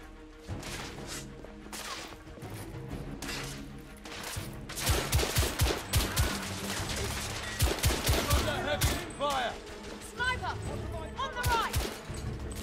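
Gunfire in The Order: 1886, a dense stretch of sharp repeated shots and impacts building up mid-battle, with someone talking over the combat.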